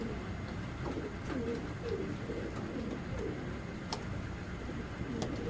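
Giribaz pigeons coo softly at a farm, repeated low throaty calls from several birds over a constant background hum, with a few faint ticks.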